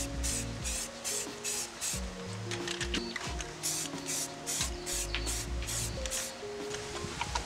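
Rust-Oleum spray paint hissing from a can in bursts while a dark green base coat goes on, with short sprays in a rapid rhythm over a constant mechanical hum and rattling.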